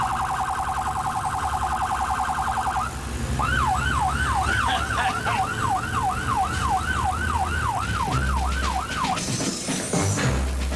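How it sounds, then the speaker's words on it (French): A fire engine siren sounds loudly: a steady two-tone blare at first, then a fast, rhythmic rising-and-falling wail that repeats many times over a low engine rumble. "J'espère que derrière la caméra, tu peux nous mettre la sirène"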